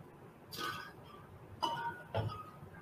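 A cocktail glass being warmed with hot water gives three quiet clinks and knocks at spaced intervals against a faint background hiss.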